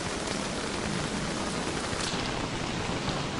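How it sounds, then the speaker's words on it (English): Steady, dense rain patter fills the whole stretch, a constant broadband hiss of drops hitting surfaces with no voices; a rain of frogs in the video game Don't Starve: Reign of Giants. "I didn't even think about a rain of frogs."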